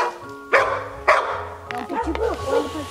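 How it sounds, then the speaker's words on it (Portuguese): A dog barks twice in sharp, close bursts about half a second apart, followed by rougher yelping sounds while people talk over it. "Nossa, tem um cachorro vindo lá de baixo."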